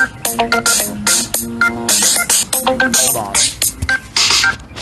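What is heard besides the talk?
telephone call tones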